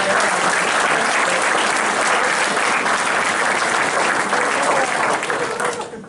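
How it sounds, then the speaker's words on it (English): A room full of people claps in sustained, dense applause for several seconds before it begins to fade at the end. "a big round of applause for all of our"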